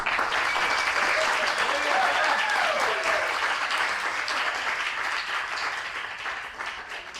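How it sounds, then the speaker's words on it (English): Sustained audience applause at an exhibition opening, honoring the chief curator Dan Hess; dense, loud clapping fills the room throughout, with some voices mixed in, and it tapers slightly toward the end. "So please give him a round of applause"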